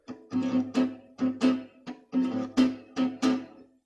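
Acoustic guitar playing an accompaniment strumming pattern, a steady run of crisp chord strokes in short repeating groups, close and alone.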